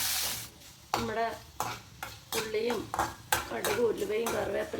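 Curry leaves crackle in hot oil for a turkey berry curry, with a moderate sizzle broken by repeated spoon scrapes and clinks against the pan.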